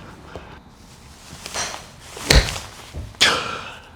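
A long iron strikes a golf ball in a shank at a driving range, heard as sharp close thwacks, one loud impact near the middle and another a second later, against faint outdoor background.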